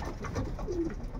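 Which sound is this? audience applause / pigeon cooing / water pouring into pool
pigeon cooing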